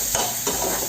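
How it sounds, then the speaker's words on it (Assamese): A spice masala of Kashmiri red chilli powder and other ground spices fries in oil for an okra curry, a brief, steady sizzle with stirring scrapes close by, no talk. "এইখিনি ভালকৈ তেল বিৰিঙি যোৱালৈকে ভাজিলোঁ"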